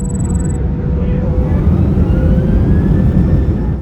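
Continuous loud jet engine roar from an IAE V2500 turbofan, with a faint whine slowly climbing in pitch above dense broadband rumble, heard alone.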